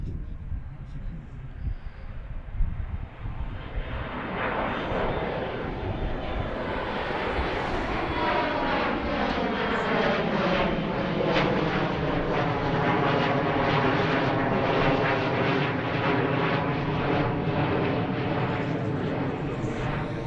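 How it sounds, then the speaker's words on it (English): Piedmont airliner arriving from Harrisburg, landing at Philadelphia airport, its jet engine roar swelling and sweeping past in a long, loud pass. "I think the one that's landing is the one from Harrisburg, Piedmont 5805"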